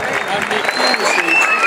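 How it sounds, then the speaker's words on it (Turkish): Applause from an audience at a natural gas inauguration ceremony in Sultanhanı district, a dense, steady wash of clapping across the whole stretch with a voice talking over it. "kuvvetli bir alkış alalım"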